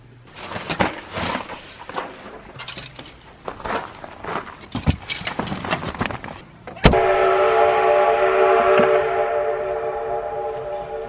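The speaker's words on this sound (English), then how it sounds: "Steam train." A steam train passes near a creek, a low rumbling approach building to a sustained loud whistle-like tonal roar with steady hiss in the second half, after scattered knocks and handling noises.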